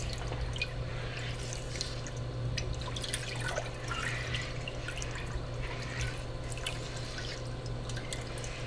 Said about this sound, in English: start stirring this so that it can start to melt and combine for our pickles